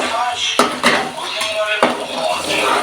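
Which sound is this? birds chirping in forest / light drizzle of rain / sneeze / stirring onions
stirring onions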